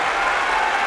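A sumo arena crowd at a Kyushu tournament bursts into steady, dense applause that fills the hall continuously and loudly throughout.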